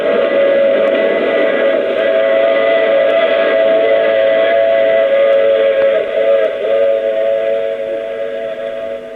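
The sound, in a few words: train and steam whistle sound effect in radio drama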